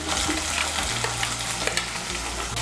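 Chopped medium-sized tomato being stirred into hot spiced oil for a thin Bengali fish curry, with a steady close sizzle and soft scraping of the spoon against the pan throughout.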